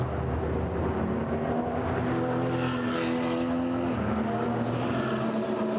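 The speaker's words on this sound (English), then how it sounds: "Sudden flurry of Porsche Caymans and Ginetta, a couple of Ginettas following out" Porsche Cayman and Ginetta GT4 race cars accelerate out of the pit lane at Zolder during qualifying, a dense, continuous roar of several engines droning together at close range, with no talk over it.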